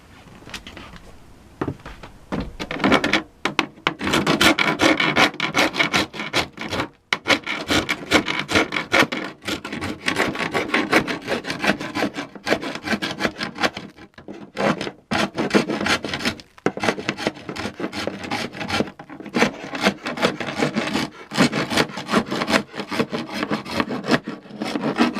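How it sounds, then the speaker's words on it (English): Filler on a wooden Victorian display case is rubbed and smoothed down by hand, giving loud, repeated rasping strokes in an uneven rhythm with short pauses between passes. It goes on for about twenty-five seconds with no talk. "Now that I've been able to get rid of most of that filler across the top, I'm just going to give it a final smoothing down."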